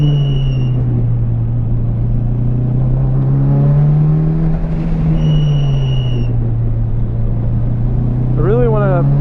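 A Mitsubishi Evo 5 race car engine on track holds a loud, steady drone from inside the cabin, its pitch rising and falling slightly as the car moves through corners, with a driver talking over it.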